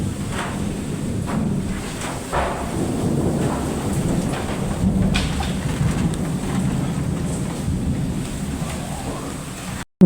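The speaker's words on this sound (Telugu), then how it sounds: "ఇంకా వాన అనేది పెరిగిపోతుంది" Heavy rain roars steadily and loudly for the whole stretch, a dense continuous wash with occasional deeper rumbles.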